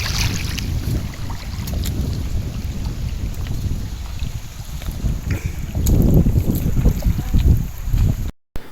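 A passenger trawler boat travelling on the Bishkhali river: a continuous low engine drone with wind buffeting the microphone, louder and rougher toward the end before cutting off abruptly, no talking.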